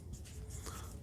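Chalk or marker scratching across a board during a maths lecture on relations, a steady soft scraping over a low room hum with no talk.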